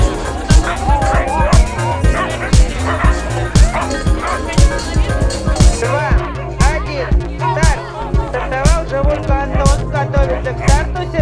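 Siberian husky sled dogs in a two-dog team bark and yelp excitedly at the start of a 5 km sled race, a dense, continuous chorus up close with crowd babble and talk mixed in.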